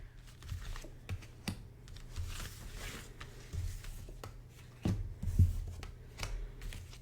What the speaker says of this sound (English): I'm going to pull some oracle cards to get us started.